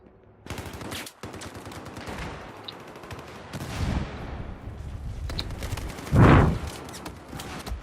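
Gunfire in Battlefield 4 during an online match: bursts of automatic rifle fire and scattered shots, near and loud, with one heavy blast toward the end, and no talk over it.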